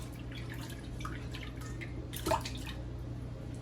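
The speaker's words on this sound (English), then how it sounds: "add some water, and like I said, we're just giving it a nice little rinse" Water running over swordfish with lime juice during a rinse, soft dripping and trickling against a steady kitchen hum, with a slightly louder splash near the end.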